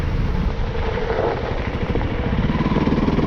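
Honda CFR 300L motorcycle with ABS braking hard on a gravel road, its engine note loud and close throughout, a steady throbbing rumble with rising gravelly texture as it slows.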